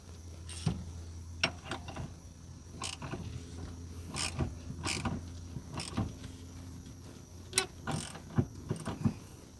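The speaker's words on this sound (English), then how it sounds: "You just tighten that up, the steering wheel should pop right off." A steering wheel puller being tightened on the column of a Jeep XJ, giving quiet intermittent creaks and ratcheting mechanical clicks spread across the stretch, with no talking.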